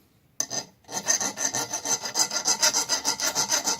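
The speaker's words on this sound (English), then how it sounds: "this is a fine metal file" Rhythmic rasping strokes of a fine file on metal, close and steady, about five strokes a second after a brief hesitant start.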